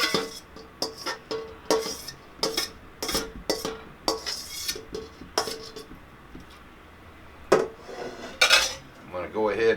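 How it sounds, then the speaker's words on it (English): A big pot of chili on a Blackstone griddle being stirred with a large stir stick: repeated close metallic clanks and scrapes in an irregular rhythm, with no talking. "I'm gonna go ahead and stir that in a little bit."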